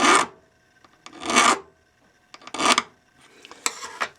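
A hand file rasps across a Wilson pistol thumb safety. Four separate scraping strokes with short pauses between them sound close and fairly loud, with no talking.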